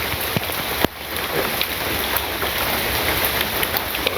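Rain pours down in a village as a broad, constant hiss of drops on surfaces, broken by one sharp knock near the start, with no one talking.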